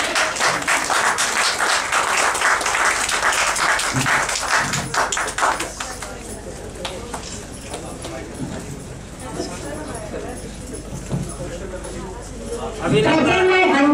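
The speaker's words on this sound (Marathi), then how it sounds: "टाळ्या." Dense applause fills the hall at a state-level poetry gathering honouring poets, a steady patter of many hands that thins out partway through as a voice speaks over it, then swells again near the end.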